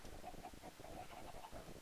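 Faint, soft clucking from a few chickens in a video game, short repeated calls over a low background murmur.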